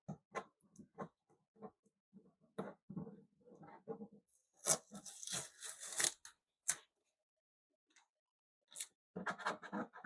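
Bag tape is peeled and torn from the top of a Bambu Lab P2S 3D printer box in short scratchy rips and crinkles, close by, with quiet gaps between the bursts.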